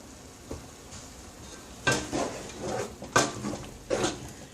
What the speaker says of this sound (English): Mix that up just a little bit so it can get all incorporated.